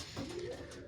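Pigeons cooing softly in a short low call amid steady background noise, somewhat distant and with no voices.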